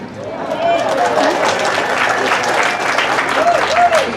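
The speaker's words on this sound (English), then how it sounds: "Let's give them another round of applause, ladies and gentlemen." A crowd at a Philippine Weekend pageant applauds, a steady wash of clapping from many hands with a few cheers and voices mixed in throughout.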